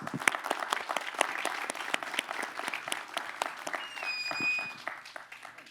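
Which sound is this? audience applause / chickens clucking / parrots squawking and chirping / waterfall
audience applause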